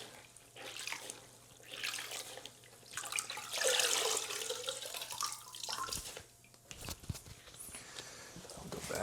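A sponge loaded with epoxy grout is rinsed under a running tap: a steady gush of water with splashing and squeezing that swells, cuts off around the middle, then resumes with looser splashes and drips.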